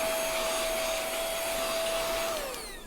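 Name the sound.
vacuum cleaner vacuuming a craft space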